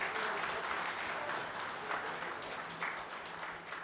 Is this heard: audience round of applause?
yes